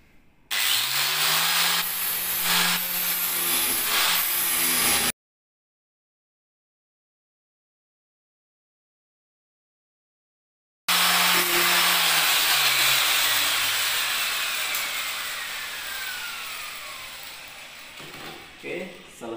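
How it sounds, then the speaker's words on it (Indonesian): An angle grinder grinds down protruding screws on a homemade folding kitchen table, a loud, continuous abrasive hiss and whine in two bursts separated by a silent gap, the second fading gradually. "kita akan mengatasi skrup-skrup yang menonjol ini. Saya akan menggunakan gerinda"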